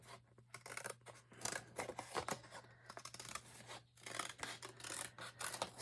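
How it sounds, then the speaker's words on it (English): Scissors snip through a paper strip for a hard cover book journal, a series of faint, close crisp cuts and rustles in a quiet room, no voices. "cut my strip"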